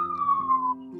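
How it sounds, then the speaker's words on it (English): An ambulance siren wails briefly, a gliding high tone slowly falling in pitch, clear and fairly close. "That's the ambulance coming for me."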